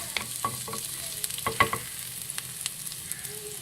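Curry leaves and ginger fry in a pan for yogurt rice while a spoon stirs them, giving a steady sizzle under repeated scraping strokes, close and moderately loud.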